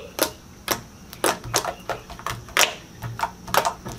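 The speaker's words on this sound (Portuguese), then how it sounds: "A minha faz muito bubble pop. Ela faz muito clique." Homemade slime being squeezed and stretched, giving a steady run of sharp clicks and small pops about every half second. The sounds are close and fairly loud, with no talking.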